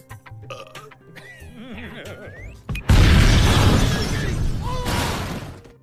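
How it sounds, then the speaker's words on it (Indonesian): A car blows up in a loud explosion in a film scene, a sudden heavy boom with shattering debris that keeps roaring and rumbling for several seconds after music and effects. "Mobil Tuan Raja keburu meledak di hadapan Janki dan Chandu."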